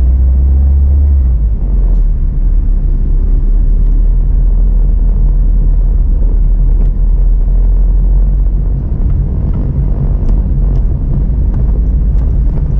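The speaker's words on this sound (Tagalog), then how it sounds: "Traffic kini dire ba basta rush hour." Rush-hour city traffic on a drive through Cagayan de Oro City produces a loud, steady low rumble of engines that runs unbroken throughout, with no voices.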